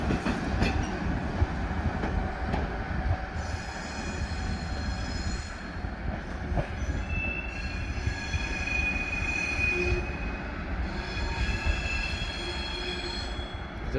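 A train passes through Quimper station, its wheels squealing in high, drawn-out screeches over a steady low rumble and rolling clatter, heard fairly close and continuously throughout.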